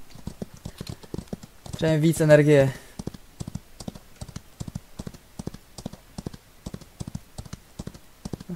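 Horse hooves clip-clop in a steady rhythm through the Outlaws of the Old West video game, a close, regular beat running the whole stretch, with a short burst of louder game sound and a brief spoken line over it.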